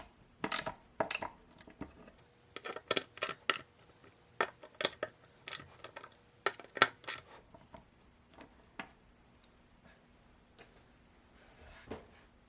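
A ratchet tightens bolts on the metal swivel base of a rocker recliner, giving quiet, close metallic clicks and clinks in short irregular clusters with pauses between them.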